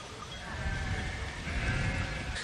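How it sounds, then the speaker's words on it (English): A sheep at a traditional wool rug workshop on a Greek island bleats in a continuous, wavering cry over a noisy, rumbling background. "It's like a sheep."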